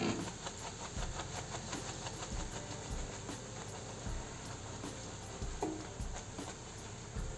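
Rasgola batter pressed from a mould into hot frying oil over a low flame gives a steady, loud, hissing sizzle with a few soft bumps. No voices are heard.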